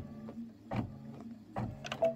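A sewing machine backstitching on a quilt, a quiet mechanical hum broken by short whirring bursts of stitching, close and alone.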